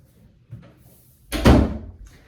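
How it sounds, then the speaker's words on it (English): A household door swings shut with one solid thump near the end, after a faint shuffle and a soft knock. "I'll shut the door."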